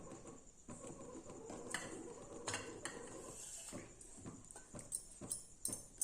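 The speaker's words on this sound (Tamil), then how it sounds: "நாட்டு சர்க்கரையில் பாலில் கரைச்சி வச்சுருக்கோம் இல்லையா அதை கொஞ்சம் கொஞ்சமாக ஊற்றி நம்ம கிளறிக்கலாம்" A spoon stirs wheat-flour plum cake batter as jaggery dissolved in milk is poured in a little at a time, giving faint, irregular clinks and scrapes against the bowl, with no talking.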